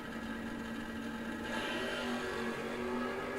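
A Chevelle drag racing car accelerating down the strip at a no-box drag race, heard as a steady, distant engine drone that rises slightly in pitch, with no talking.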